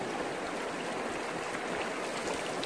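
Cold, clear river current flowing strongly in a rural province, a steady broadband rush of water close by with no talk over it.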